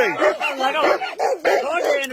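Dogs bark and yelp in rapid, overlapping bursts at close range amid a chaotic scuffle. Loud voices shout over and between the barks.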